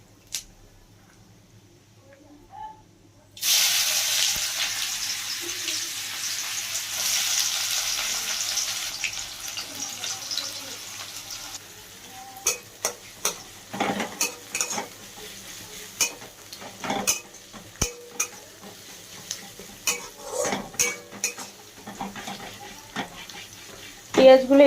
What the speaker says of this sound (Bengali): এবার আমি দিয়ে দেবো গোটা জিরে। জিরেটা যেই অল্প ভাজা ভাজা হয়ে যাবে